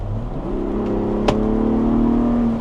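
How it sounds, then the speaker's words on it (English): A 2024 Ford Bronco Raptor engine downshifts to fourth and revs up hard, a rising growl with a brief whine, heard from inside over steady road noise. "It just downshifts to fourth and absolutely fires."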